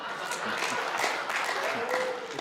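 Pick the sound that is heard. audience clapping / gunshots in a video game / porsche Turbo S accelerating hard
audience clapping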